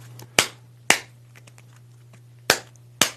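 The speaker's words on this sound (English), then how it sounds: "Shuffle them." Playing cards shuffled outdoors to work excess powder out of the deck, heard as four sharp riffling bursts spaced irregularly over a steady low hum, close and fairly quiet.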